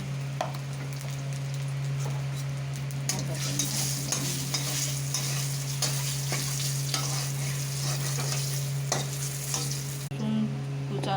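A dried red chili and a little turmeric fry in hot oil. The steady sizzle sits close to the mic and is stirred with repeated scraping strokes, under a constant low hum.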